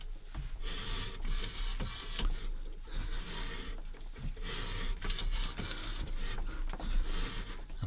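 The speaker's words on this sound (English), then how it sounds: "which is basically the metal that you're cutting off from the outside of the conduit to form the thread" A threading die cuts a thread onto steel conduit by hand, giving a rough, rhythmic grinding and scraping of metal in repeated strokes, fairly close and moderately quiet, with no voices.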